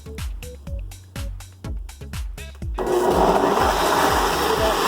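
A kitchen blender blends celery into a smoothie, first pulsing in several short bursts, then running steadily at full power in a loud, continuous whir.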